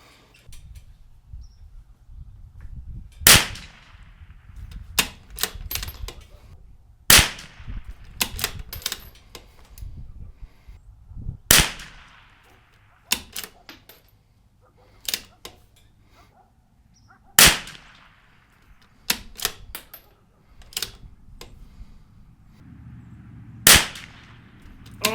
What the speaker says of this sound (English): We're going to shoot our first 5-shot group at 52 yards.